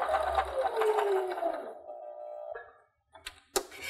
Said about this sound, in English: I'm stitching very, very close, like not even a 16th inch from the edge